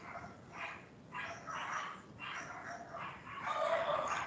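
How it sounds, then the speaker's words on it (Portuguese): Several dogs bark out in the street, a run of repeated, fairly distant barks and yips coming in bursts over about four seconds, growing slightly louder toward the end, with no talking. "os cachorros deram doido aqui na rua"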